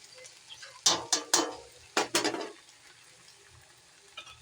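Chopped ginger and garlic are stirred into hot oil in a pan while okra is being prepared, giving a few loud bursts of sizzling and scraping separated by quieter frying hiss, with no talking.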